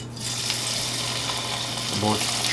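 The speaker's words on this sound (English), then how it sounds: "so now I'm just going to fry each pieces for about 3" Lobster pieces stir-fry in a hot pan for Cantonese scallion ginger lobster, giving a continuous close hiss over a low hum, with a brief voice-like sound near the end.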